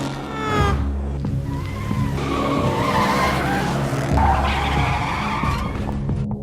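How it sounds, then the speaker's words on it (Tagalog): Cars in a high-speed chase through city streets, tires skidding and squealing loudly with roaring engines, a continuous intense wash of screeching rubber and motor noise across the whole stretch. "Nagsimula ang matinding habulan na bilis sa buong lungsod."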